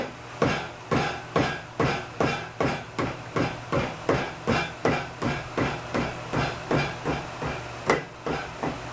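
A hammer taps a metal shaft on a merry-go-round under repair, about twenty sharp, evenly spaced ringing strikes at a steady pace, close and alone.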